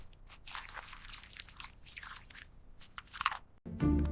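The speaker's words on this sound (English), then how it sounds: "Crunchy and delicious. I eat cereal." Crunchy breakfast cereal crunches loudly up close in bursts of chewing and biting, irregular crackly crunches for several seconds before a brief pause and a sharper sound at the end.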